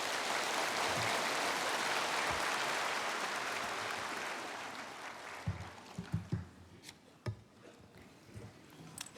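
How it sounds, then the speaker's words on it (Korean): Warm applause from a church congregation welcoming a speaker forward, a dense wash of clapping that fades over several seconds and gives way to scattered knocks and shuffling. "나오실 때 따뜻한 박수로 환영하겠습니다"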